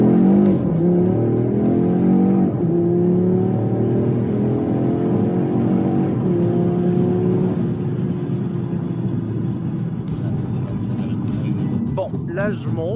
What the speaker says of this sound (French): on dirait le turbo comme ça